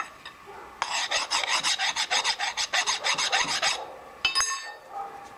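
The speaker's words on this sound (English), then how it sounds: "First I got to make sure all my edges are clear so I don't have any burrs hanging out." A file rasps burrs off the cut edge of a pipe in a quick rhythmic run of about a dozen close, gritty strokes, followed by a couple of metallic clinks and a short scrape.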